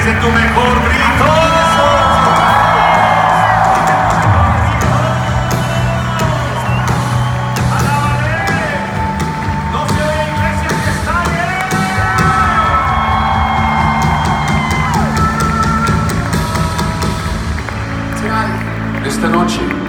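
A church congregation at Casa de Dios in Guatemala shouts and cheers loudly during a worship event, a dense roar of crowd yells that swells and fades under amplified speech.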